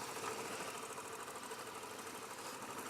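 Royal Enfield Classic 500 motorcycle engine running, a faint steady mechanical thrum and vibration with a dense, rough texture and no clear pauses.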